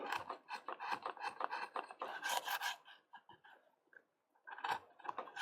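Chisels carving a Japanese woodblock for printmaking give a steady rasping, scraping sound in close repeated strokes, with a short pause before the cutting resumes.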